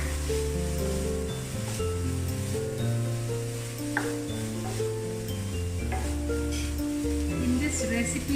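Capsicum being stirred in a hot pan for egg bhurji curry gives a steady sizzle with occasional clinks of the utensil, set under background music and a voice speaking.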